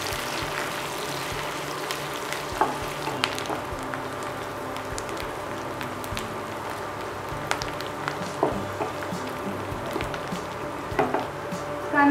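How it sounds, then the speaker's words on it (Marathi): Finely chopped onion sizzles in hot oil in a pan while being sautéed for rice with green peas. A soft, steady crackling hiss continues throughout with a few light stirring clinks, and there is no talking. "कांदा 1-2 मिनिट आपण परतून घेऊयात"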